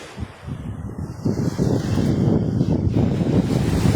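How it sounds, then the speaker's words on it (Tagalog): Strong wind roars steadily over a microphone at White Beach in Puerto Galera, Mindoro Oriental, with surf rumbling beneath, building louder through the clip with no voices. "Lakas ng hangin, oh."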